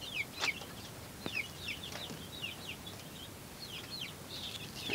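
Chickens in a wire-mesh enclosure give scattered high chirps and soft clucks, some close and some farther off, over a low steady background hiss with no talking.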